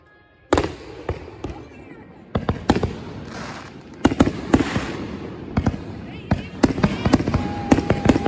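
Fourth of July fireworks burst repeatedly, with sharp cracks and booms scattered irregularly over a rumbling backdrop, some in quick clusters, while people talk and react nearby.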